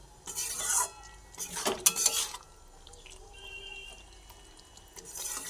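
Oil being stirred through a potato and pointed gourd curry in a pan: a few scraping, clattering bursts of spoon against metal, with quieter gaps between them and no speech.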